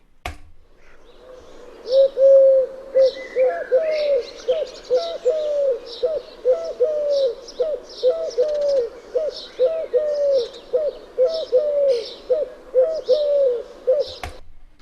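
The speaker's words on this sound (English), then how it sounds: "when you hear the colored dove, it sounds slightly different, more musical to me" A collared dove repeats its cooing call in a steady rhythm for many rounds, clear and fairly close, with faint chirps from other birds in a park setting.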